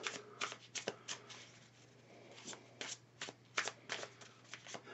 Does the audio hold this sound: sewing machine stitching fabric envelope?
no